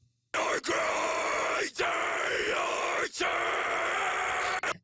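Loud, sustained screamed vocals in a progressive metal mix with a rough, gritty, guttural distortion artifact, broken by a few short gaps between long harsh bursts.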